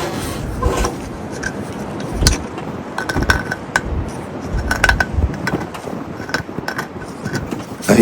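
Sandpaper rubbing over a carved figure to smooth its faces, a steady close scratchy rasp in repeated strokes with occasional light knocks and clinks.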